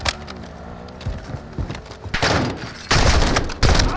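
Gunfire in Call of Duty DMZ, a rapid fusillade of shots building from scattered cracks into dense, loud bursts in the last second and a half, with no talk over it.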